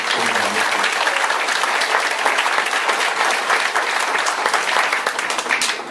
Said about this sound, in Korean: 그분들을 위해서도 우리 뜨거운 박수를 드리겠습니다.